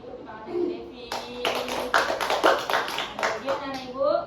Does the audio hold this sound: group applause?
yes